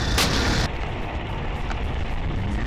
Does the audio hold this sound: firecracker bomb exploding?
yes